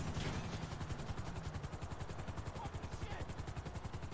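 A local helicopter heard as a steady rhythmic rotor chop, fairly loud and continuous throughout, with a voice faintly present under it.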